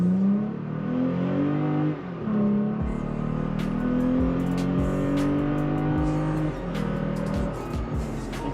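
Toyota Tacoma with a 3.5 V6 and Injen cold air intake accelerating hard from a stop, a throaty engine note climbing steadily through the gears at moderate distance with no talk.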